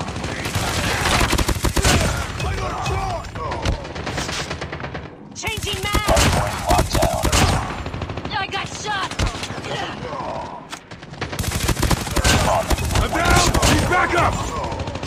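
Call of Duty Mobile gunfire: loud, dense automatic bursts that run almost continuously, broken by two brief lulls, with in-game voice callouts mixed in.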